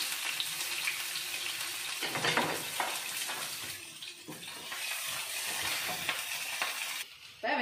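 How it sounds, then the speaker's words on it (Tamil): Onions sautéing in a pan for mint rice: a continuous close sizzle broken by scraping stirs and clattering, rising and dipping in waves, with no voices. "வெங்காயம் நல்லா வதங்கணும்."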